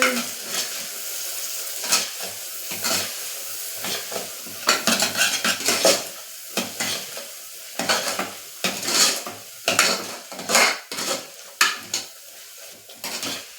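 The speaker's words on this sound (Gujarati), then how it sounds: "પછી બધું હલાવી લેશું." Kathiyawadi dhaba-style masala khichdi is stirred in a pot, with repeated close scraping and clattering of the spoon against the metal and a faint sizzle between strokes, no one talking.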